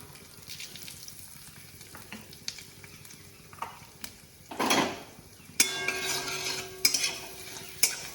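Whole garam masala, dried red chillies, cumin and asafoetida frying in oil, with soft sizzling, a louder burst as the spices hit the pan, then steady crackle with occasional utensil clinks.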